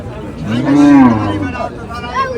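A calf moos once, loud and close, at a livestock market, with faint crowd murmur behind it.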